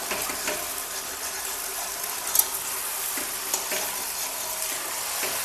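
Spice masala for North Indian style chicken curry sizzling and frying in a pan, a steady loud hiss throughout with occasional soft stirring scrapes and a brief sharp clink, close and with no talking.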